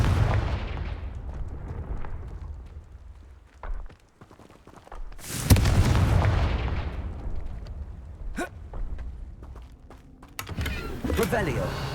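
Confringo fire-blast spell in Hogwarts Legacy, a deep, loud booming explosion with rumbling low end, followed by a second heavy burst and crackling game effects, with brief speech mixed in.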